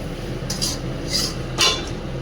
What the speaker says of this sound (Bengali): এই যে সুজিটা আমার ভাজা হচ্ছে